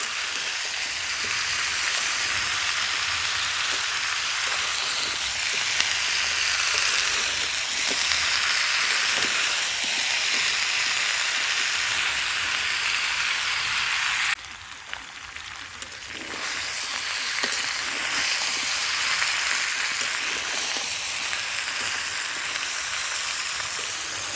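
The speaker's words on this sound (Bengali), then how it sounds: "এবার এটা খুব ভালো করে আমি কষিয়ে নিব।" Wild yam (bol alu, mete alu) curry with plenty of chili powder fries in a pan with a loud, continuous sizzle and crackle, dipping briefly partway through before the steady frying returns, and no one speaks.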